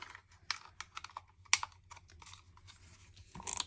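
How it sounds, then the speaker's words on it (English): A tape runner presses a paper square down onto a sketchbook page, making a quiet, close series of soft clicks, scratchy taps and light crinkles, with a sharper snap near the middle and a brief rustle at the end. "I'm just using my regular tape runner for that."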